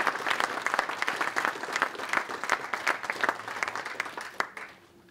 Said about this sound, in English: So give them a massive round of applause, all the fighters have made it.